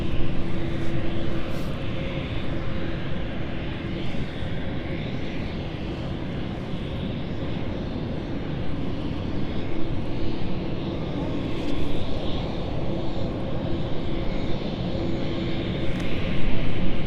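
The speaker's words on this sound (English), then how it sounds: "we'll just tune in to focus on our Malaga flight" A passenger jet on approach to the runway at London City Airport, a loud steady roar of engines that holds throughout with slight swells, heard alone from fairly close.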